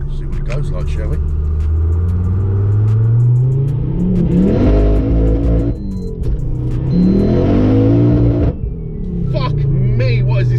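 A 500hp Ford Focus RS Mk2 revs hard through two long, loud pulls, engine note rising then dropping, with wastegate whooshes and flutters between gear changes, heard close from inside the car.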